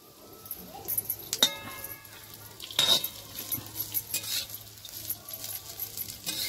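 Coriander and a spice mix dry-roast in a pan, soft sizzling crackle with intermittent scraping stirs and light metallic clinks of a spoon against the pan, close and fairly quiet.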